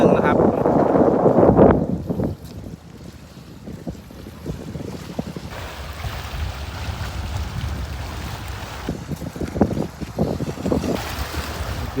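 Wind gusts across the open water of Lam Takhong reservoir in Thailand, a steady roar and buffeting on the microphone that runs through the whole stretch, with someone talking over it.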